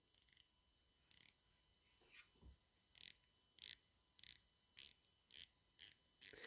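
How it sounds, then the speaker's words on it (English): The rotating bezel of an AVI-8 Flyboy Royal British Legion Falklands 40 meca-quartz watch gives a series of sharp, close ratcheting clicks in short, evenly spaced bursts, with no talking. "let's have a look at the bezel action"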